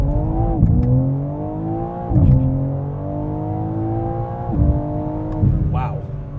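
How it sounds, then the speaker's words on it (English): A 2024 BMW M4 CS with a 3-liter twin-turbo inline six launches hard, the engine note climbing through several gears with short dips at each shift, loud and close from inside the cabin. "2024 BMW M4 CS. With launch control."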